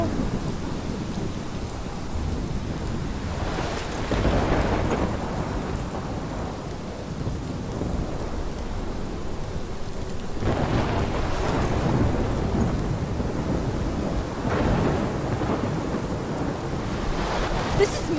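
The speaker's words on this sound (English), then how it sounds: "This is my storm." A thunderstorm with steady rain hissing throughout and several deep rolling thunder rumbles swelling and fading, loud and close, with gusty wind buffeting the microphone.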